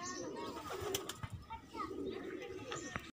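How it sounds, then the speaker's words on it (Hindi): Pigeons coo softly at close range in low, throaty bursts, with a voice and some faint rustling alongside. "ये 4 कबूतर बैठे हुए हैं"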